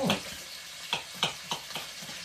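Chicken fries in a pan with a low, steady sizzle, broken every few moments by a sharper spatter or stir. Close and clear, with no one speaking.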